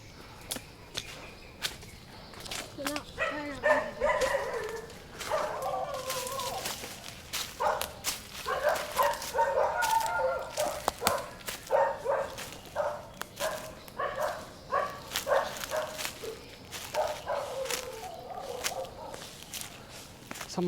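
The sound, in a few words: dogs barking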